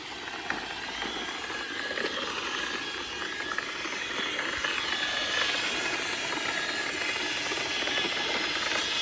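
A Roomba robot vacuum works across a driveway, giving a faint continuous mechanical whir with light rattling and scraping from its brushes, steady throughout with no talk.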